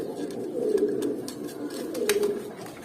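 Silver, homer and other pigeons being paired in a loft, with soft low coos rising twice in close succession, fairly near and quiet, over a light background of faint clicks and rustle.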